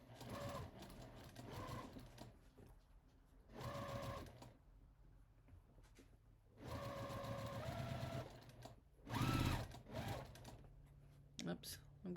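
A sewing machine stitches an apron seam in several short runs of close, steady mechanical whirring. Pauses and quiet stretches fall between the runs, with someone talking at times.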